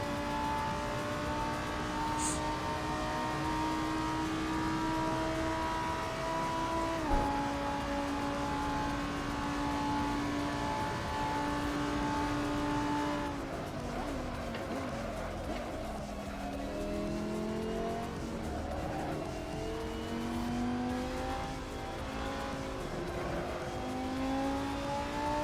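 Racing car engine holds a steady high drone, then shifts into wavering pitches as tires squeal and slide during a race; the sound is continuous and moderately distant, with no voices.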